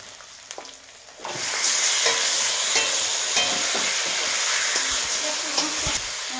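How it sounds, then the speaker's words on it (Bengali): Meat for lau mangsho hits a pan of spice masala with tomato, salt and turmeric, breaking into a loud steady sizzle after a quieter start, with scraping stirs from a spoon. "এখন আমি মাংসটা দিয়ে দেবো।"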